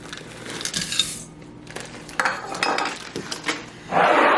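Ingredients being combined in a large bowl, with ground flax and chocolate chips going in: bursts of clinking, scraping and stirring come and go, and the loudest rush of mixing noise sits at the end.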